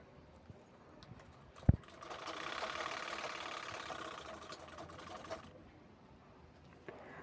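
A sewing machine stitches a zipper onto a handbag in one continuous run of rapid mechanical whirring lasting a few seconds. The needle rattles close by, and a single knock comes just before the run starts.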